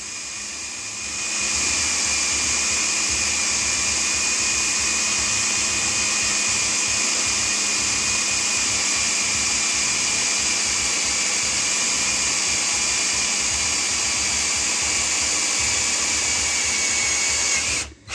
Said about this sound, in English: Just run the drill slow, let it do the work.